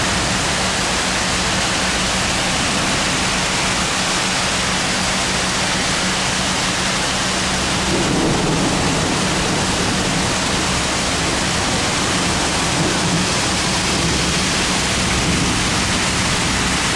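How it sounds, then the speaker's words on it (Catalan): The Riu d'Àguila in Xàtiva, flooded during heavy rain, roars as a loud, dense, unbroken rush of water that swells slightly partway through, with no voices over it. "Aquí el riu d'Àguila."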